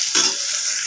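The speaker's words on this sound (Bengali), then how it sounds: "উচ্ছেটা ভেজে নিচ্ছি" Bitter gourd fries in a pan, a close, bright crackling sizzle with a brief louder flare near the start, alone for under a second.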